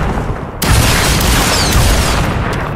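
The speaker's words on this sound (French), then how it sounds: "vous envoyer une petite grenade. Flash." A flash grenade goes off in the VR shooter The Brookhaven Experiment: a sudden loud boom followed by a sustained roaring, crackling blast that fills the rest of the moment.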